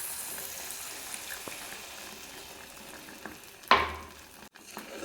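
A thick mukkutti lehyam mixture stirred in a pan, giving a soft steady bubbling and scraping texture, broken by one sharp clatter near the end.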